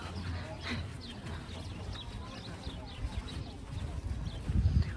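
Horse at a riding academy farm in Çatalca giving soft, irregular hoof clip-clops at moderate distance, under background noise with people talking nearby.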